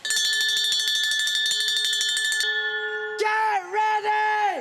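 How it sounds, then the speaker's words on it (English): A school bell rings in a boarding house to tell pupils to get ready, a loud continuous metallic ringing that stops abruptly and gives way to a wavering electronic tone. "I'm ringing the bell for telling people to get ready."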